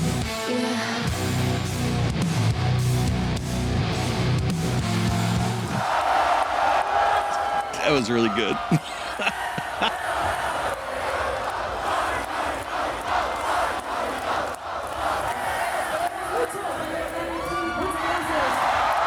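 Rock concert crowd roars and cheers loudly and steadily, a dense wash of voices and whoops under music, with someone talking over it.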